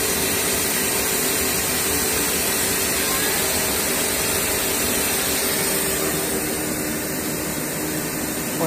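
Mazak Integrex 100 III-ST machine spindle turning at 2170 RPM, a smooth, steady whirring hum with no breaks.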